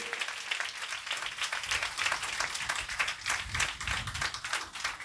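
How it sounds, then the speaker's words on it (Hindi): A church congregation applauds to give thanks to God, a steady rapid patter of many hands clapping together for several seconds, moderately distant and fairly soft. "ताली बजा के प्रभु को धन्यवाद दीजिए"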